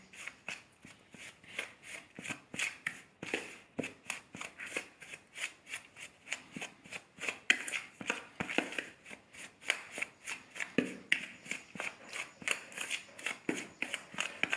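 Butter and sugar are rubbed and mixed by hand in a bowl for chin chin dough, giving a steady rhythmic run of gritty scraping, crunching strokes, close and fairly quiet, repeating about twice a second.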